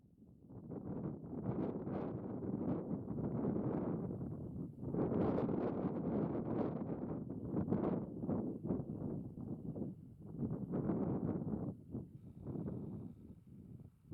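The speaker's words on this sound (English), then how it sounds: "The wind's blowing straight down at those bucks" Wind blowing across open mule deer hunting country in Idaho, a steady broadband rush with gusty surges and buffeting on the microphone, loud and close throughout with no voices.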